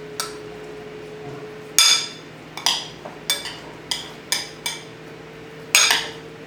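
Gherkins and parsley get stirred together in a bowl with a utensil, giving a series of sharp clinks and taps against the dish, spaced irregularly about every half second over a faint steady background hum.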